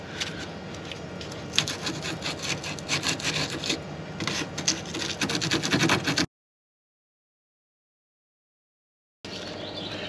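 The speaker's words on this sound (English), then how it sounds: "just clean off the connections with a bit of sandpaper" Sandpaper rubs rust off the fragile tank heater connections on an Elddis CV20 camper van, a close, busy scratchy scrubbing in quick strokes that stops abruptly into a few seconds of silence before resuming.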